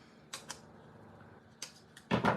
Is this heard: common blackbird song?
no